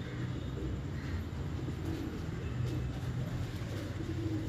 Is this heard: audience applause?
no